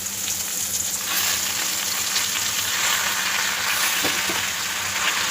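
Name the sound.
sautéing onions and gongura leaves in a pan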